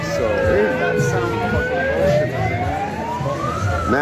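A siren played by demonstrators at an education protest in Ottawa wails steadily, its tone slowly rising and falling across the whole stretch, loud and close over a murmur of background noise.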